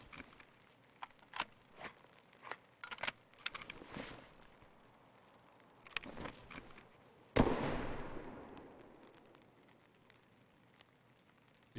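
Gunfire in Escape from Tarkov: a run of sharp, scattered shots at varying distances, then one loud, close blast at about seven seconds whose echo trails off for several seconds.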